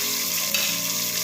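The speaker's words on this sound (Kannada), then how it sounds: "ಸ್ವಲ್ಪ ಫ್ರೈ ಮಾಡ್ಕೊಳ್ಳೋಣ." Vegetables with turmeric and salt frying in a pan: a steady, even sizzle with one brief stirring scrape, close and fairly loud.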